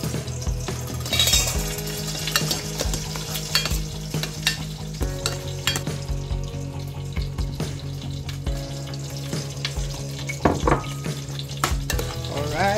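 Fish frying for sarciadong isda, a steady sizzle and crackle running throughout with occasional stirring clinks, close and moderately loud with a musical tone beneath.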